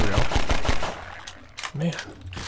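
Rapid automatic gunfire from a weapon in the video game Half-Life 2 Episode 1, a quick run of evenly spaced loud shots followed by scattered quieter game sounds and clatter.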